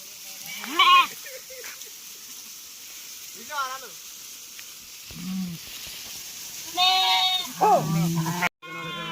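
Sheep in a village flock bleat in several short, separate calls, some near and some farther off, with brief gaps of quiet between them.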